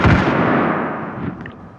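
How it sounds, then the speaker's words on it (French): A single loud, booming gunshot from an M16 in a Minecraft guns mod, a heavy blast that decays into a long rumbling tail, close and alone. "Un petit coup de M16."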